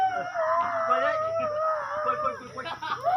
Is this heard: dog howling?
yes